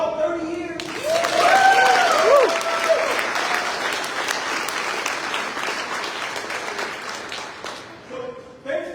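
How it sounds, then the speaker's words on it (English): Sustained applause from an audience at a veterans' program and grog bowl ceremony, swelling quickly into loud, dense clapping with cheers and whoops, then slowly tapering off as speech resumes at the edges. "Can we applaud 30 years?"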